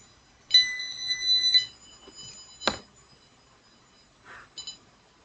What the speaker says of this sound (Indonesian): Ini untuk buzzer dengan frekuensi jauh. Ini untuk bunyi buzzer dengan frekuensi dekat.